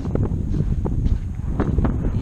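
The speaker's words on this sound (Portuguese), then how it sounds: "como tá ventando um pouquinho, tá ventinho bom" Wind gusts across Clearwater Beach, heard as a close, blustery rumble of microphone buffeting with uneven bursts. The sound is fairly loud and continuous, and no one speaks.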